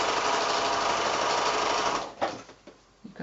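A sewing machine runs steadily at speed stitching pinwheel quilt pieces, a close, loud continuous whir that stops after two seconds, followed by a few brief handling bumps.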